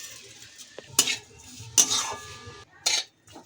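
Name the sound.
stirring paneer with spices in a pan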